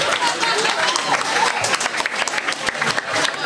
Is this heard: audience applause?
yes